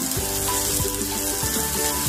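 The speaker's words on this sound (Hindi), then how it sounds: "तो इस तरीके से मैंने प्याज डाल दिया और इसको चला लेते हैं" Onions tossed into okra frying in a pan produce a loud, steady sizzle with a hum beneath, as a spoon stirs them with a few scraping strokes close by.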